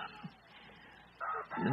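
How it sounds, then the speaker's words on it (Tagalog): A rooster crows at a distance, its call rising faintly at the close of a quiet, brief stretch of background noise. "Nanatugaw ko mga manok."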